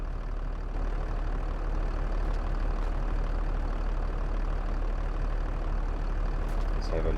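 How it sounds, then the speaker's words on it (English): Valtra tractor engine idling in Farming Simulator 22, a steady low rumble that holds evenly throughout with a few faint clicks near the end. "Veltra is our biggest tractor that we have on the farm currently"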